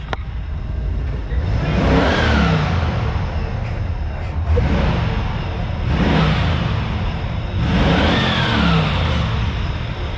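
A 1996 Cadillac Fleetwood with the E&G Continental package revs its engine in three distinct surges, each rising and falling back to idle, fairly close and loud.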